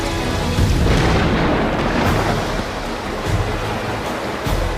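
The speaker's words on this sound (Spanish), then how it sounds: "Cuando la lluvia cae por fin en los desiertos australianos, llega como una explosión." Heavy thunderstorm rain pours down in the Australian desert, a loud, dense, steady roar of downpour with low rumbling underneath and no voices.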